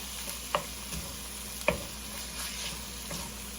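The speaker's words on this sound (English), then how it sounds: "So we just want to make sure that our onions get tender." Chopped onion frying in a pan alongside browning meat, a steady quiet sizzle broken by a few sharp clicks of a utensil against the pan.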